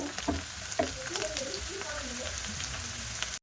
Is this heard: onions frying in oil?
yes